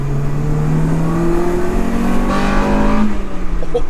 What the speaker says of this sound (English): i-vtec pops so loud